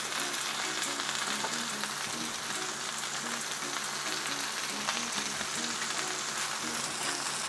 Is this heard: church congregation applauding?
no